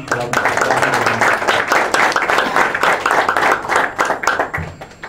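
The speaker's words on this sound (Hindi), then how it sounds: "आप सबकी ताली में बुलाना चाहता हूँ पास्टर साहब को, आए हैं।" A church congregation claps to welcome the pastor, dense loud applause from many hands filling the room throughout, with a voice speaking over it at moments.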